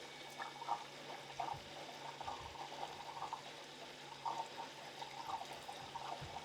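Developer liquid trickles into a beaker holding a strip of 35mm film, a faint, close, uneven dribble with small splashy bursts over a quiet room hum.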